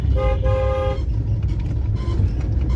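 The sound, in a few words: bus and car horn on road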